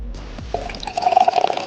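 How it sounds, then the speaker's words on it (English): Drinks poured into glasses, a close liquid stream rising in pitch with bubbling gurgles as the glass fills, loud and alone after a brief quiet start. "Would you like me to pour the drinks for you and your guests?"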